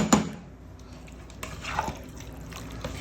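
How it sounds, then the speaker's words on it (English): A spoon stirs a pot of beef and bean chili with brief wet, liquid sloshes and soft knocks, faint and close, with no voices. "Give this one a stir too."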